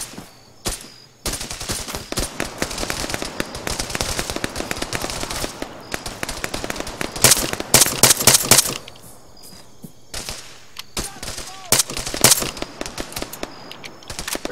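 Rapid bursts of automatic gunfire and scattered single shots from an ARMA 3 battle at Bala Airstrip crackle loudly and almost without pause, with dense volleys near the middle and sharp isolated cracks toward the end.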